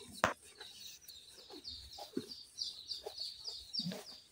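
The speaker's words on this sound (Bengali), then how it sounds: "পোল্ট্রি মুরগি" Poultry chickens cluck and murmur nearby in a village yard, with irregular short clucks and one sharper squawk early on over a faint high chirping background.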